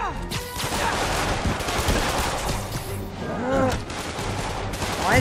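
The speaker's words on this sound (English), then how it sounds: "Why is everyone shooting me?" Heavy gunfire at police barricades in Spider-Man PS4, dense bursts of automatic and single shots with ricochets and impacts, loud and continuous, with some voices mixed in.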